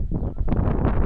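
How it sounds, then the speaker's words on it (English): Strong wind buffets the microphone outdoors near an old gas station by a double stone arch bridge, a loud, low, rumbling gust that fluctuates continuously without a break. "It's very windy today."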